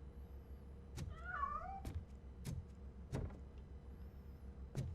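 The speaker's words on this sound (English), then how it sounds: "I'm afraid this time it's a one-way street, Mr. Cat." A cat meows once in the RoboCop: Rogue City video game, a clear wavering cry near the start amid several sharp taps and thuds over a constant low ambient hum.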